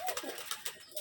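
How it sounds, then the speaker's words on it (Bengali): Pigeons cooing softly in a loft, a few low murmuring coos repeating close by over quiet background hiss. "এই যে আমার এক পেয়ার কবুতর"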